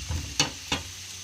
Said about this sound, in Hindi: शलजम को हम इसमें हल्का सा फ्राई कर लेंगे